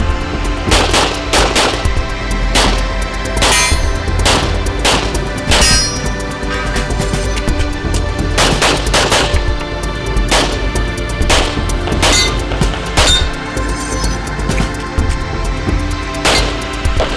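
Gunfire at an IPSC shooting competition range comes in loud, irregular bursts of sharp shots, some with ringing metallic clangs, over a constant noisy background.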